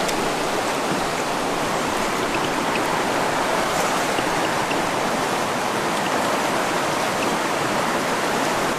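A mountain stream on the Caldwell Fork Loop rushes steadily while someone wades across it. The water makes a constant, close, broadband roar with no break and no voices.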